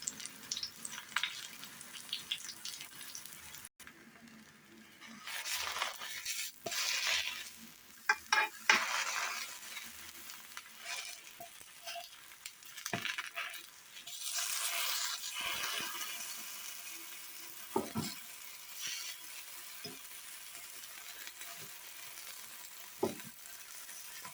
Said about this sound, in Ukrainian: смажу з обох сторін до рум'яної шкірочки